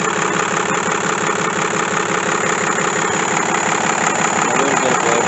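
Diesel engine of an International Loadstar donor truck idles steadily up close, a continuous rumbling drone with a faint rhythmic tapping running through it.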